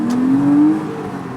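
A Porsche sports car engine rises in a short, smooth rev as the gear changes, a clear climbing tone close by that then settles back to a lower, steady hum.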